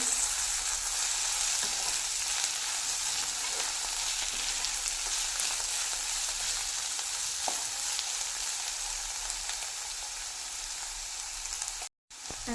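Ridge gourd frying in a pan with oil: a steady, dense sizzle runs the whole way with a few faint scrapes of stirring, then a brief dropout near the end.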